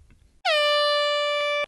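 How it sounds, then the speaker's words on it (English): A handheld air horn blasts once, a loud sustained blaring tone lasting about a second with an abrupt start and cutoff, preceded by faint rustling. "And keep that air horn handy."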